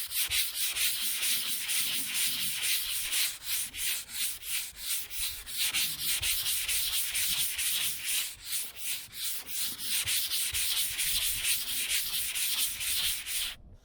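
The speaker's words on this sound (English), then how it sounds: "So I'm just using a block with some 180 grit" Rhythmic back-and-forth hand sanding with a 180 grit block on the roof of a 1968 Chevelle Nomad under restoration, steady rasping strokes repeating about every half second, close and continuous.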